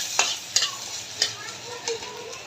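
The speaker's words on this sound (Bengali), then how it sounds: "পেঁয়াজটি একটু লবণ দিয়ে ভালো করে ভেজে নিই" Onions with green chillies and a pinch of salt frying in mustard oil, a steady soft sizzle broken by four sharp scraping stirs of a spatula, close and clear with no talk.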